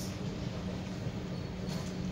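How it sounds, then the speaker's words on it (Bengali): A sky train arriving at a station in Germany, heard as a steady, low, fairly distant rumble with a faint hum and no voices. "আরেকটা ট্রেন আসতেছে, স্কাই ট্রেন।"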